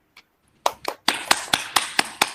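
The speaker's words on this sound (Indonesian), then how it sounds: "Ayo, beri aplaus dulu." A classroom gives a short round of applause: a few scattered claps, then a series of sharp, evenly spaced claps close by, with no talking.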